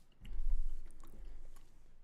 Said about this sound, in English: let me finish these gushers real quick